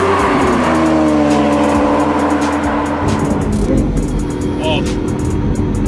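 A Lamborghini Aventador SV engine roars continuously at high revs, loud and close, with a steady harmonic drone climbing in pitch as the car accelerates, and a voice speaks over it.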